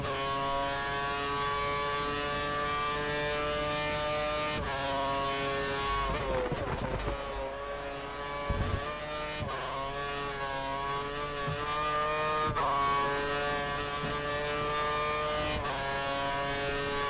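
F1 2013 cars race around Monza, Italy, in the video game, a loud, continuous high-pitched engine whine dominating with gear-shift dips and a brief rumble midway, several engines overlapping and no voices.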